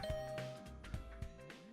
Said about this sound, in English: I rang Gaku's doorbell.